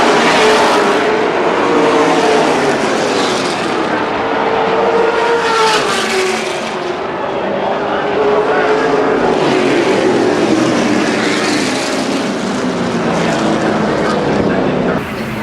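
Several late model race car engines roar continuously at high revs at Winchester Speedway, pitches rising and falling as cars pass, with a commentator talking over the din.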